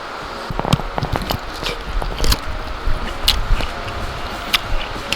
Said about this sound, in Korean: 이게 지금 빗소리가 너무 강해서 들릴지 모르겠는데 한번 씹어 볼게요